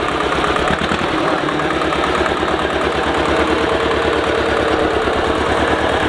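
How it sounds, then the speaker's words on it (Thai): An old, freshly repaired tractor engine runs steadily while plowing a field, a loud, continuous close-up rumble with a rapid knocking pulse and no talk over it. "ครั้งแรกนะครับเพิ่งเอามาไถนะครับ หลังจากการซ่อมเสร็จนะครับ"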